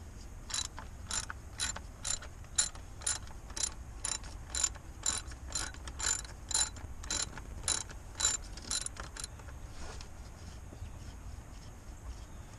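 Ratchet removing a cover on a 2003 Ford F150 during a power steering hose replacement, a steady series of quick close clicks repeating for about ten seconds, then stopping, with no talk.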